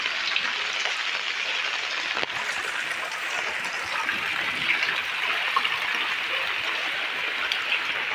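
Floodwater rushing through Kalitala market, a steady dense wash of flowing water that hisses evenly throughout without pause, fairly close and moderately loud.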